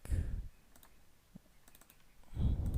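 Quick computer mouse clicks land in a short burst on a desk, close and crisp, between stretches of quiet talk at the start and end.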